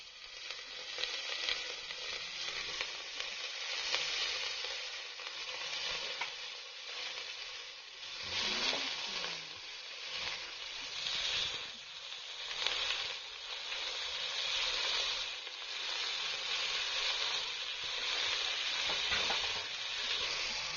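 Washed amaranth leaves fry with ginger garlic paste in a pan, giving a continuous loud hiss and sizzle with occasional stirring scrapes, with no voices.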